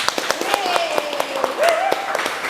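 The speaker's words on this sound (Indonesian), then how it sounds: "Tepuk tangan buat Ahmad Dea." Crowd applause with dense clapping that swells and continues steadily, while a voice talks over it.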